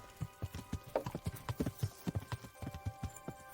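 Horse hooves clip-clop in a steady walking rhythm in the medieval video game Kingdom Come: Deliverance, close and moderately loud over a faint constant background tone, with no talk.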